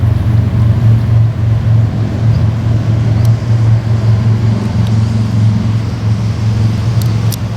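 Traffic on a two-lane mountain road about sixty yards away makes a steady low engine drone with a constant hum, loud and continuous throughout, with no one talking.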